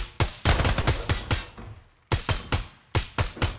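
Sharp gunshots ring out in the tactical shooter Ground Branch, fired in quick rapid bursts of three to five rounds separated by short pauses, loud and close.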